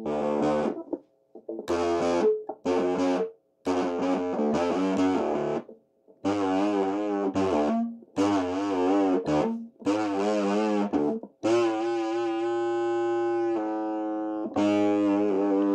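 Overdriven electric guitar played through a Bee wireless guitar system, loud distorted chords and sustained notes in choppy bursts with short gaps, ending in longer held ringing tones.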